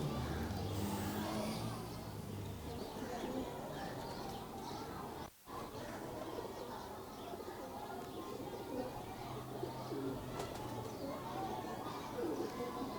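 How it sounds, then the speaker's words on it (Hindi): A teddy pigeon cooing in soft repeated low coos amid outdoor bird chatter and background noise, with people talking nearby. "ये टैडी कबूतर है जी ये मेरे।"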